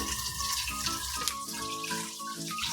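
Tap water runs steadily into a sink while cooking utensils are washed, a continuous close splashing wash with no talk.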